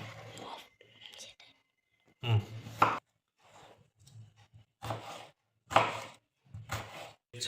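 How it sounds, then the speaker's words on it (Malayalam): A knife cuts mango and plum on a board in several short, distinct chopping bursts separated by pauses, close and fairly quiet, with faint murmuring in between. "മാങ്ങ പ്ലം നമുക്ക് കട്ട് ചെയ്തിടണം"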